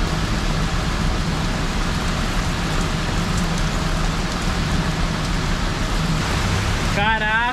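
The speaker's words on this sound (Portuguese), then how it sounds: "Caraca, pessoal, que chuva, hein?" Heavy wind-driven rain pours down outdoors near an awning and umbrellas, a loud, dense, unbroken roar from start to finish.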